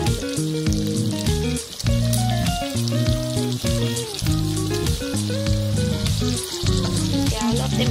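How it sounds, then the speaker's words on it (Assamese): Pieces of duck meat fry in hot oil with a continuous crackling sizzle, while steady background music plays underneath. "মাংসখিনি ভাজি হৈ আছে"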